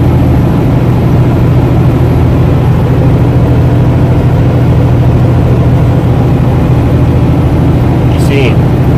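A truck pulling a trailer climbs a steep hill at full throttle, its engine holding a deep, loud, continuous drone at high revs. Someone talks over the engine throughout.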